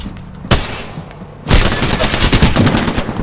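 Gunfire in the video game Apex Legends: a single loud shot, a short pause, then a dense stretch of rapid automatic fire and impacts that stays loud and close to the end.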